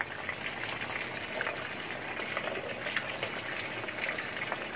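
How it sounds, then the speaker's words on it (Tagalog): Tap water runs in a steady, gushing stream while a Thai dessert is drained in a kitchen sink, a continuous close hiss with no talking. "Open ko yung gripo para dire-diretso."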